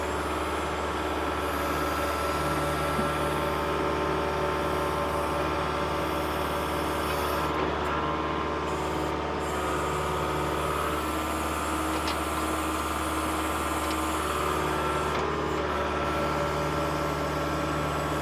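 A 2020 Kubota L47 tractor-loader-backhoe's diesel engine runs steadily nearby at idle, a continuous low rumble with a faint hydraulic whine while the boom is operated, no talk.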